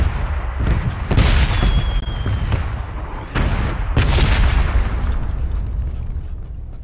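Several booming explosions burst in a round of PUBG on a bridge map, loud heavy thuds spaced a second or two apart over a rumbling background with no talk.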